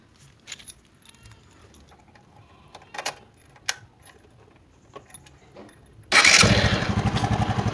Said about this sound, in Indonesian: Ini mesin sudah menyala.